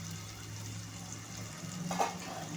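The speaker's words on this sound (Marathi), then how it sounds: "तेलावर परतून घ्यायचे आहेत भाज्या छानपैकी" Potatoes, green peas and vegetables sautéing in oil in a pan make a faint, steady sizzle. A brief stirring scrape comes near the end, with no talking over it.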